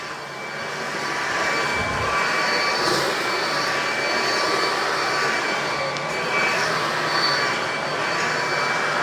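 A Bissell 4173 upright vacuum cleaner runs continuously over carpet, a steady loud motor whine and airflow roar holding unbroken throughout with no talk.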